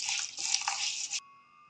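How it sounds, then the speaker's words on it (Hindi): Water splashes and gushes over split black lentils (mash dal) being rinsed in a kitchen. The rushing wash is close and continuous for about a second before cutting off abruptly, with no talking. "अब हम इसको अच्छी तरह पानी डाल के धो लेंगे"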